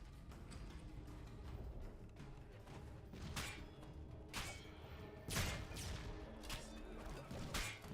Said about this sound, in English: I just heard a lot of thumping, and I believe that the thumping was chairs being clattered.